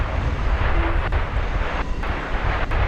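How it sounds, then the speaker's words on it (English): An MD-11 airliner rolls out along the runway after landing at an airport, a steady, loud broadband roar of engine and wind noise running continuously throughout without any talk. "that, in my experience, is a very long rollout for an MD-11 here"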